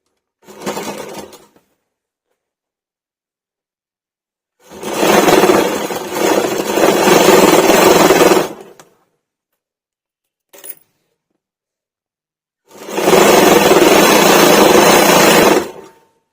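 A sewing machine stitches a lining and main fabric piece together for a small child's bonnet, running in loud whirring bursts of a few seconds each, separated by silent pauses and one very brief tap.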